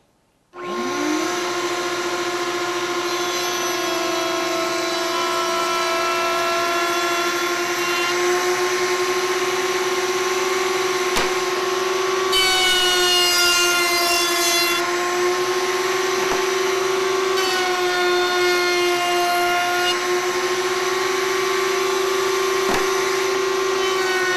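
Workshop dust collector plugged into a router dust tube, starting up and running loud and steady with a constant whining tone and airflow roar, brief fluttering surges midway, no talk.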